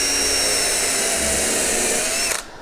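A power drill with a tapered bit whirs steadily at high speed into wood for a couple of seconds, then cuts off abruptly.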